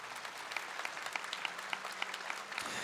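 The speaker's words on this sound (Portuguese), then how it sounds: "Gostaria que você aplaudisse esta obra de caridade que a igreja faz." A church congregation applauds in a steady, moderately dense patter of claps. Some louder individual claps stand out against a soft room background.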